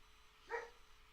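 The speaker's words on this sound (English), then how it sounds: "He's reacting to a neighborhood dog." A neighborhood dog gives one brief, faint bark from a distance, about three doors down the street, a single short yelp over quiet background.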